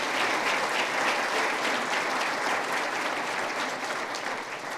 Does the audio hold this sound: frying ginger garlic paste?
no